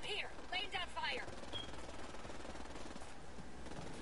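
Rapid gunfire in a PS4 video game, a continuous rattling stream of shots under and after a voice talking at the start, fairly faint overall.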